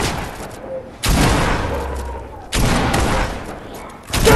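Gunfire in the battle royale video game Nitemare Royale comes as two sharp, loud blasts followed by a dense, crackling spray of shots, with a third burst starting at the end.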